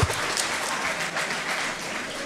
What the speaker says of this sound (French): Alors déjà un tonnerre d'applaudissements pour les Somaturines qui ont gagné cette fois-ci.